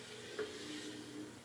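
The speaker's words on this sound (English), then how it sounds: "We'll take our liquid nitrogen and pour it down inside the tea kettle." Liquid nitrogen pours into a tea kettle with a faint, brief hiss and soft bubbling sizzle, quiet and close, lasting only a moment.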